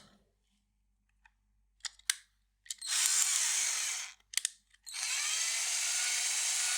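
A power drill whirs in two sustained bursts after a few clicks and short starts, while lubricating an Arctic computer fan, loud and close, with silence in between.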